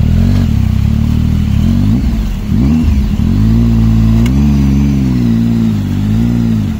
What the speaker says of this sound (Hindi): रेव करते रहो रेव करते रहो